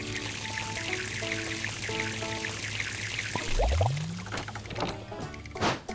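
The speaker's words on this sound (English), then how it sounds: "and then it'll fill up water for you." Water pouring into a train tender at a water station in a cozy train video game, a steady rushing pour under gentle game music with a rising whoosh midway.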